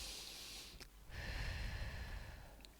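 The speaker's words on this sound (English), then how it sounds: "let's breathe" A slow, deep breath drawn in and let out during a calming breathing exercise, a soft airy inhale followed by a longer steady exhale, heard close and alone with no talking.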